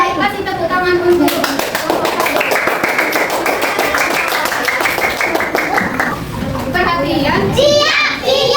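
Schoolchildren in a classroom clapping together in quick rhythmic bursts, a run of sharp evenly spaced claps mixed with excited young voices chattering and calling out, close and lively.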